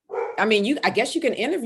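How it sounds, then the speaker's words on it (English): A big bull mastiff barks a few times in the background while a person keeps talking over it. "That's my dog barking in the back."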